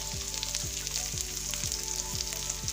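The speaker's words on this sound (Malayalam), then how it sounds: "ഇതൊന്ന് വഴറ്റിയാണ്" Onion, curry leaves and green chilli sauté in a pan with a steady, close sizzle and hiss, broken by a spatula scraping and stirring in regular strokes about every half second.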